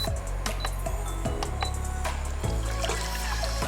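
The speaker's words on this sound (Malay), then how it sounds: "Pertama sekali kena menggunakan air sebab nak bagi gula Melaka ni larut dengan betul." Water is poured into a pot to melt palm sugar, a steady close trickle and splash with a few clinks of metal.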